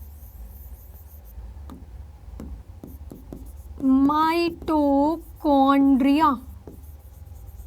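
A pen scratches out labels on a science diagram in soft, intermittent strokes, and someone speaks over the later part of the writing.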